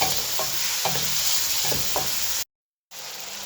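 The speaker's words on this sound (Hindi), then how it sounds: "इसको अच्छी तरह हमने इसके अंदर फ्राई करना, जो इसकी स्मेल खत्म हो जाए।" Green capsicum and chicken are fried and stirred in a pan, a steady sizzle broken by four rhythmic spatula scrapes, then a brief cut to silence before the frying resumes.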